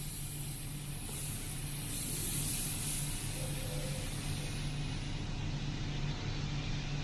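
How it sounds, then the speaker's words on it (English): An airbrush compressor runs steadily in the background, a faint continuous low hum with airy hiss and no voices, while an Iwata CM-SB 0.18mm airbrush sits ready for fine lines. "I've fired the compressor up, guys. You probably hear that very slightly in the background."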